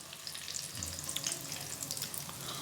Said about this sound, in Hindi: और अब हम जो है ना इस साइड को भी तकरीबन 3 से 4 मिनट तक अच्छे से फ्राई करेंगे।